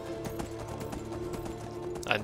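Horse hooves clip-clopping in the video game Skyrim, a steady rhythmic trot of muffled thuds under faint game ambience, ending with a brief bright swish.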